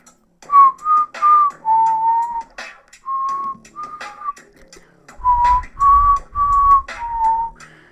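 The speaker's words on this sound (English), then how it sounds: "I'm whistling Hunger Games for no reason" A person whistles the Hunger Games tune alone, a clear melody in short sustained phrases with brief pauses between them.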